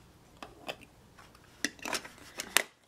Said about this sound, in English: Then you flip this over to the fine sandpaper and repeat for each side of the blade.